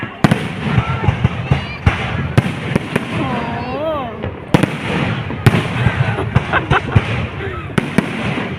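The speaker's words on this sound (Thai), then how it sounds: "เสมือนพลุดอกมะลิที่เบ่งบานสว่างสวัยทั่วท้องนภาในค่ำคืนนี้ค่ะ" Fireworks for Thailand's National Mother's Day celebration at a park in Laem Chabang burst in the night sky as a series of loud, sharp cracks and pops, irregularly spaced, with voices and crowd sound between them.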